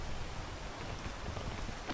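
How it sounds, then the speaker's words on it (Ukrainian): Rain in a video game: a soft, even hiss of falling rain that holds steady and faint, with no other sounds or voices. "ще й дощ"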